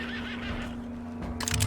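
A horse whinnies once in the open-world Western game Red Dead Redemption 2, a short cry rising near the end over low game ambience and a faint steady hum.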